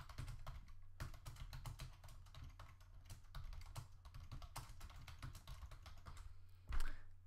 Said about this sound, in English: then I'm going to go ahead and type in some text